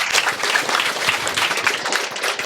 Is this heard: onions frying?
no